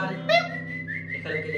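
A person whistles short chirpy tones imitating swallows during a children's animal song, a brief bright rising and falling phrase, close and fairly soft.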